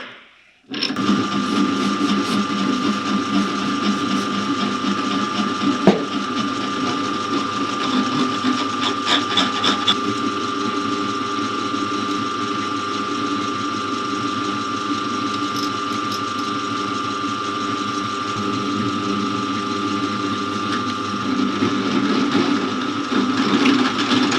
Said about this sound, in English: I pre-drill the rivets with 5mm. And after that I'm going in with a 9, I believe.